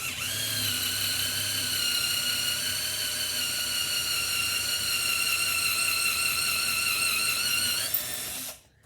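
A drill boring out a golf club hosel: a loud, sustained high-pitched whine with steady harmonics that strains slightly under load, then cuts off abruptly near the end, with no voices.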